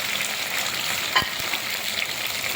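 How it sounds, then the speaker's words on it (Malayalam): Chopped okra fries in hot oil, giving a steady, close hiss of sizzling with fine crackle throughout and a single soft knock of a utensil partway through. "ഇതിലേക്ക് നമ്മൾ അരിഞ്ഞു വെച്ച വെണ്ടയ്ക്ക ഇട്ട് കൊടുക്കാം. ഒരു പകുതി ഫ്രൈ ആകുന്നവരെ ആക്കിയെടുക്കണം."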